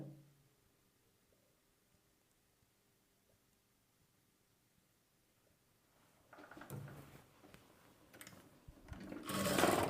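A sewing machine runs in short bursts while stitching the side slit of a chudidar top, starting after a quiet stretch and growing louder toward the end.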